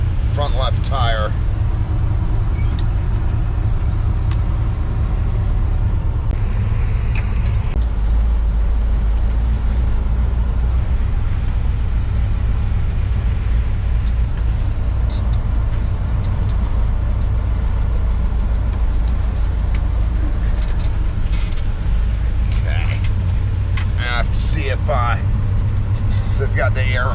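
A car drives slowly, its steady low engine rumble running throughout from inside the cab, with people talking intermittently over it and occasional faint clicks and rattles.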